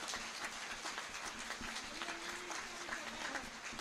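Audience applause at a Hindi-language spiritual discourse on satsang, a steady wash of many hands clapping at moderate level, somewhat distant, continuing throughout without pause.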